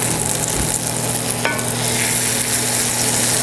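Olive oil and a pat of butter swirled in a skillet, giving a constant loud sizzle and hiss with one brief clink near the middle, no talking.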